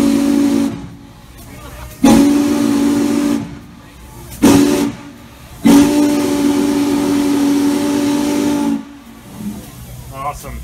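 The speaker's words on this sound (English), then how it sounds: "I'm doing the whistle blow" Steam whistle on steam locomotive 611, blown in several long blasts with short gaps, loud and close, its steady tone carried over a constant hiss of steam.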